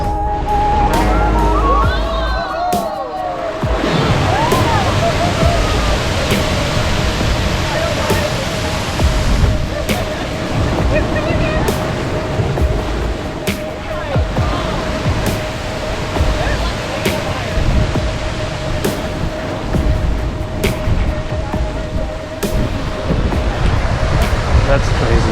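Ocean water surges and flushes through Thor's Well, a rocky sea hole on the Oregon Coast, with a constant loud roaring wash, wind buffeting the microphone and periodic sharp clicks.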